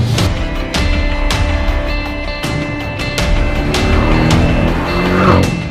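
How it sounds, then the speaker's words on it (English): A Porsche 718 GTS engine roars continuously under load, rising in pitch as it accelerates, with a throaty GTS exhaust and occasional sharp pops; loud and close. "It makes a lovely noise, and that GTS exhaust on it is fantastic."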